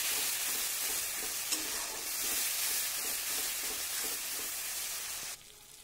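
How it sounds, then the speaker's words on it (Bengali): Mustard and poppy seed paste sizzles loudly in a hot pan of fried spices while being stirred, a dense continuous hiss with soft scraping strokes that drops away abruptly at the end. "মশলা একটু কষানো হয়ে গেলে তারপর তাতে দিয়ে দেব বেটে রাখা সর্ষে আর পোস্ত বাটাটা"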